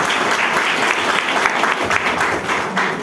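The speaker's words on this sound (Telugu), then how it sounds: "గ్రేట్, క్లాప్స్ ఇచ్చుకోవచ్చు మీకు." Dense, loud applause from an audience at a business plan presentation, continuous clapping throughout without a break, with no talk over it.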